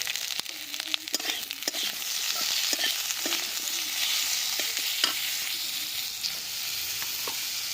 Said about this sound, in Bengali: মূলোগুলো দিয়ে একটু খুব ভালো করে ভেজে নিচ্ছি